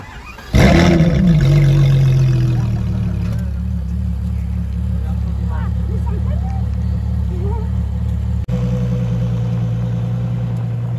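A Porsche 918 supercar fires up on a Paris street with a sharp, loud start-up bark and revs, then settles into a deep, steady idle rumble with voices faintly audible nearby.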